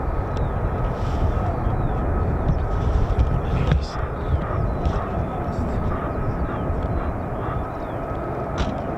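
Military jet aircraft flying near RAF Lakenheath, home of F-15 and F-35 fighters, producing a steady, loud broadband roar that holds evenly throughout, with faint voices underneath.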